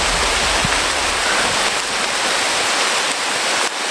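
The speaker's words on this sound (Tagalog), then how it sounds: "Sobrang lakas ng ulan." Heavy rain pours down in a dense, unbroken roar, loud and close, with no pauses across the whole stretch.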